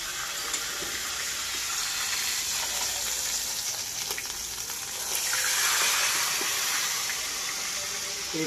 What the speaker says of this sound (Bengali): এখন শুধু আমি মাছটা ভাজছি